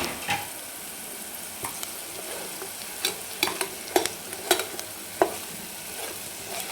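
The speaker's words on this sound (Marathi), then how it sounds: "हे सगळं साहित्य आपल्याला तेलामध्ये कांद्यामध्ये टाकून घ्यायचं आहे आणि छान परतून घ्यायचं आहे" Onion, garlic and spice masala stir-frying in hot oil for an eggplant-potato curry, a continuous sizzle broken by scraping spatula strokes and light clinks against the pan, with no talk.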